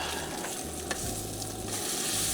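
Bacon sizzles in a frying pan while camping and cooking in a van, giving a loud, dense, continuous crackle up close, with a low hum underneath and one brief clack partway through.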